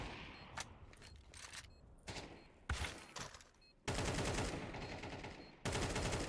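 Rapid gunfire from Counter-Strike 2 rings out in several separate bursts, some sharp single shots and some longer sustained volleys, loud and close with no talk over it.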